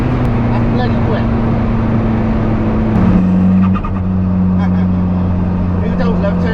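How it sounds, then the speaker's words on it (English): A diesel-swapped Toyota MR2 drives with a steady engine drone, then the pitch shifts as the throttle lifts and a brief fluttering chatter from the turbo is heard, close inside the car, with talking over it. "Who don't love turbo chatter?"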